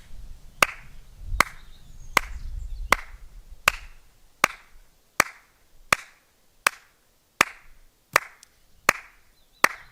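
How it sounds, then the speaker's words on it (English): A steady series of sharp hand claps, about one every three quarters of a second, crisp and close, with low rumble early on. "an obvious one, is the classic clap"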